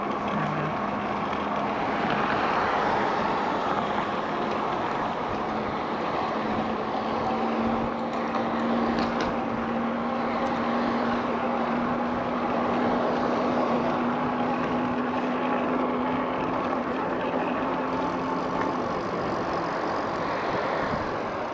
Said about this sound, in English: so this wind, I'm going against this wind pretty bad